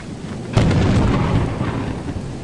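A thunderclap from lightning in the video game Lethal Company, a sudden loud crack followed by a long, heavy rumble that fills the short passage, no talking.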